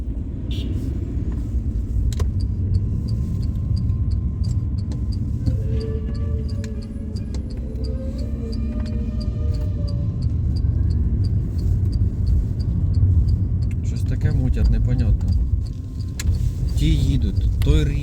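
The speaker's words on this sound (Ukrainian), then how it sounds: "В Дніпрі дуже багато машин, от просто дуже багато машин." Steady car traffic on a city street in Dnipro, a continuous close rumble of passing vehicles with scattered ticks and clatter, while a person talks over it throughout.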